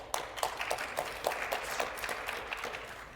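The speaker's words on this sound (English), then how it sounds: "Audience, clap if you believe Web3, NFT, blockchain, metaverse will be the next big thing to shake Titans and excite" Conference audience at a travel-industry executive panel clapping as believers in Web3, a moderate, fairly even patter of many hands with a few sharper claps standing out, heard alone.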